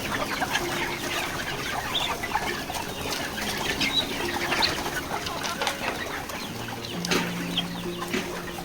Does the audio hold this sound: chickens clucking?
yes